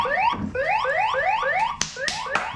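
An Ofero motorcycle alarm sounds close and loud with a thin, toy-like tone, repeating rapid rising electronic sweeps and then a few sharp chirps.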